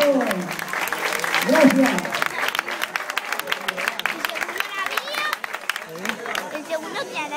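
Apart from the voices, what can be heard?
audience applause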